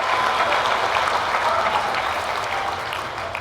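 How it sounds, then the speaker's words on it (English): Audience applause at a charity auction for children, a sustained even wash of many hands clapping throughout, loud and close, slowly easing toward the end. "Now we can clap."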